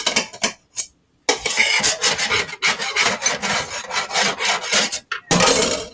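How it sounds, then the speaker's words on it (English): A sharp knife scrapes gunk from underneath a sink in quick, rough rasping strokes, close and loud, broken by brief pauses. "you're going to take a sharp knife and you're going to go through and you're going to get all the gunk underneath the sink"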